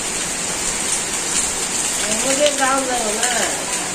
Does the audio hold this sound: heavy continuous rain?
yes